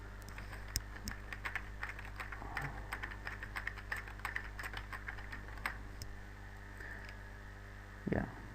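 Keys clatter on a computer keyboard in steady, fairly close bursts of typing that go on for several seconds over a constant background hum, ending with a louder thump.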